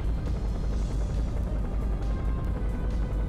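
Enemy helicopter in the PS2 game Seek and Destroy, a steady low rotor drone that holds at constant loudness throughout, with busy game rumble and faint clatter layered over it.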